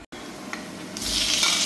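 Onions sauté with salt in a pan, a soft sizzle followed by a louder burst of frying as they are stirred, with a brief clink partway through.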